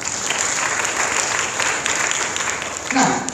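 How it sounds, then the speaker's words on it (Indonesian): Congregation applauding during a Sunday church service held in a hotel room, continuous dense clapping with a steady high ringing tone underneath and a voice surfacing near the end. "Tepuk tangan dong buat Tuhan Yesus."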